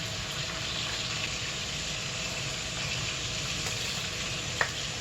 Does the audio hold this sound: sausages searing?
yes